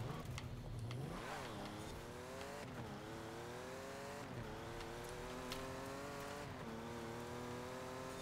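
A race car engine in a racing video game revs up and down through repeated rising and falling sweeps, with tires squealing as the car slides. The engine sound is loud and steady throughout, with no talk.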